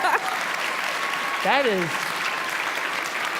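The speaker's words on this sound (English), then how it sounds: "we should applaud that, guys." Audience applause during a live onstage conversation about graphic novels for kids, sustained clapping throughout with a brief spoken remark layered over it.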